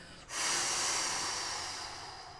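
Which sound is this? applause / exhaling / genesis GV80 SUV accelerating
exhaling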